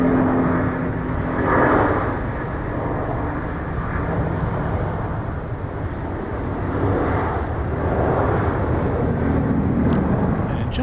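A steady roar from an airplane at Incheon airport in Seoul, South Korea, rising and falling slightly in loudness over a dense, continuous rumble heard from some distance.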